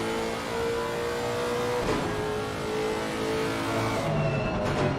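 Onboard engine of a Lexus GT3 race car in Assetto Corsa Competizione at COTA, a loud steady high-revving drone that climbs and drops through gear changes with no pause throughout.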